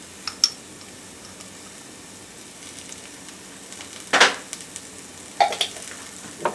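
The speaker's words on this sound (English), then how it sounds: "stir all that around until your onions become translucent or really soft" Onions and garlic sautéing in extra virgin olive oil, a quiet steady sizzle with a few sharp clicks and scrapes of a utensil stirring the pan.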